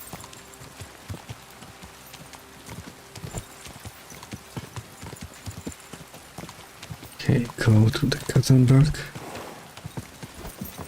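Steady clip-clop of horse hooves at a quick rhythm in a medieval Bohemia video game, with a voice speaking over it and a louder burst of hoofbeats and a whinny near the end.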